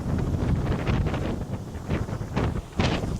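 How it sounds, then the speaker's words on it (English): Cold wind buffets the microphone at the Galveston cruise port in Texas, a loud rumbling roar with gusty surges and a few brief hissing bursts near the end. "It's cold and windy."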